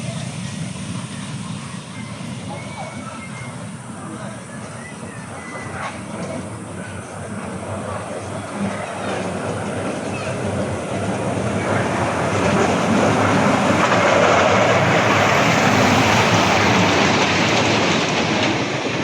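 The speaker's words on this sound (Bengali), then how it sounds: "ট্রেনে ঘুরতেছে ওরা" An amusement park ride-on train runs nearby with a continuous rumbling, rattling roll that swells louder toward the end as it passes close, with no clear talk over it.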